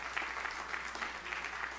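Lively applause fills a church congregation during a sermon, a faint, even wash of many hands clapping heard from a distance, steady for the whole stretch.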